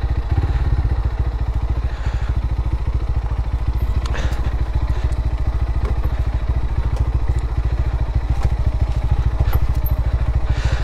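Geared motorbike engine running steadily and loud on a steep downhill mountain road in Bandarban, a dense mid-pitched throb with occasional clatter and thumps throughout, no talk.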